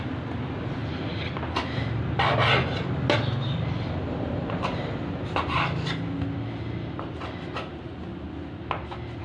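Dough for a cheese pastry being cut, heard as soft rubbing and scraping with a few light taps against a low, steady background hum, all fairly faint.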